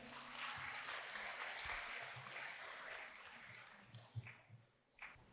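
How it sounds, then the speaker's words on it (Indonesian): Audience applause at an Indonesian talk-show session, a steady wash of many hands clapping for several seconds, then thinning out into a few scattered, louder individual claps near the end. "Tepuk tangan Bapak Ibu sekali lagi."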